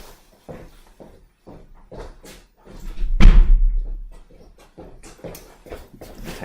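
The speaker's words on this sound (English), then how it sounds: "I want to just close the door here." A door closes with a single loud thud in the middle of the clip, surrounded by quieter shuffling and small knocks in a room.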